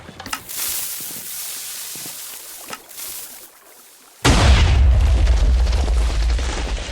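A sudden heavy TNT explosion in Minecraft cuts in partway through, followed by a sustained loud rumbling roar; quieter crackling game sounds precede it.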